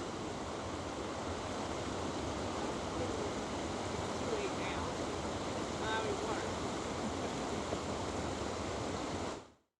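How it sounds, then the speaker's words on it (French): Continuous heavy rushing water roars steadily, a dense unbroken wash of sound from a nearby waterfall in Yosemite National Park. "un petit morceau de vidéo un peu plus proche pour que vous entendiez le bruit de la cascade."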